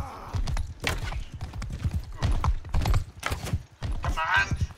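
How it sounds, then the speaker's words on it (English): Many horses' hooves clatter in a rapid, overlapping clip-clop during a Mount & Blade II: Bannerlord battle, loud and close, with a whinny near the end and people talking excitedly over it. "Dude, there's so many horses."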